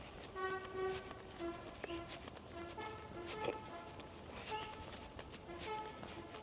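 A train horn sounds in Tashkent, Uzbekistan, giving a series of musical, tonal honks that repeat across several seconds at moderate distance over a busy background hum.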